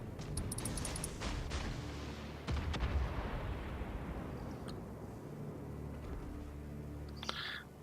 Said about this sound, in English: Just fire some torpedoes off here.